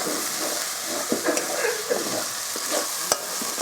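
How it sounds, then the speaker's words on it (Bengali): A spoon stirs ground chana dal paste through hot oil in a pan for a sweet kachori filling, with a constant close sizzle and soft scraping strokes. "এবার ডাল বাটাটাকে তেলের সাথে ভালো করে মিশিয়ে নেব"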